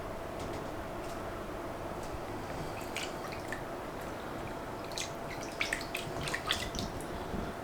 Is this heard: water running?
yes